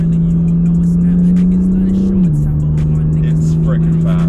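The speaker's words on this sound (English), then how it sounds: "We are in our first drive in the 2015 BMW M4" The six-cylinder twin-turbo engine of a 2015 BMW M4 drones steadily from inside the car while driving, loud and constant, its pitch dipping briefly partway through as if shifting, then holding low.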